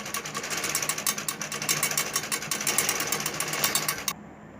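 A sewing machine stitching a dori loops neck design on fabric, a steady fast rhythmic whirring clatter close by that runs for about four seconds and then stops abruptly, leaving faint room noise.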